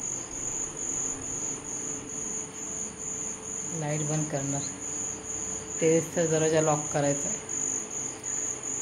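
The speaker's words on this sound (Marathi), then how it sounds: "इकडे बघा रातकिड्यांचा आवाज" Crickets chirping at night outside a village home: a steady, shrill, continuous trill runs through the whole stretch, while someone talks in short bursts over it.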